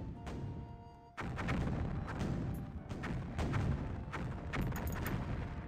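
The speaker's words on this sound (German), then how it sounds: "Nach einer nervenaufreibenden Verfolgung und schweren Kanonendonner" Heavy ship cannon fire in the video game Anno 1503, a dense barrage of booming shots rolling one after another with rumbling low-end, loud and continuous after a brief quieter start.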